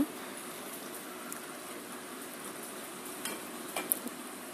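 Ginger garlic paste fries in a pan for Telangana-style bagara rice, giving a faint, even hiss of sizzling oil with a few soft clicks of stirring near the end. No one speaks.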